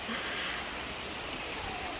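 Rain patters steadily on a surface outdoors in warm weather, a continuous hiss of drops that stays fairly even throughout.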